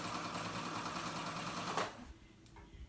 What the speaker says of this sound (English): I'm just doing a long stitch so I can gather it